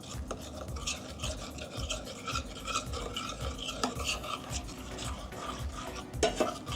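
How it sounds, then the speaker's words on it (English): A utensil scrapes and stirs across the bottom of a pan while butter chicken cooks, making a continuous rasping, rubbing sound with irregular metallic strokes, fairly close and quiet, with no speech. "we're scraping off all the stuff in the bottom of the pan"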